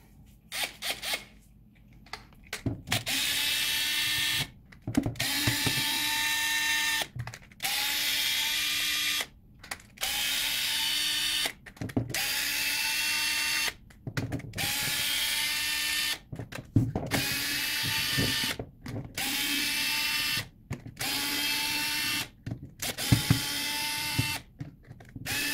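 A power screwdriver removes Phillips screws from a Parkside PSSA 20-LI A1 cordless sabre saw casing in about fourteen short whirring bursts. Each burst lasts one or two seconds, separated by brief silent pauses and small clicks, all close and fairly loud.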